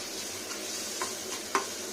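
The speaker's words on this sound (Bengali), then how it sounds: "খুব বেশি ভাজা ভাজা করবো না" Ginger and garlic paste frying together in a wok for an egg curry: a steady, fairly soft sizzle broken by a few light scraping clicks of stirring, with no voices.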